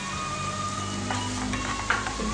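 Softened peppers frying in a pan with salt and black pepper, a steady sizzle with a spoon stirring and scraping through it, brief soft clinks near the end.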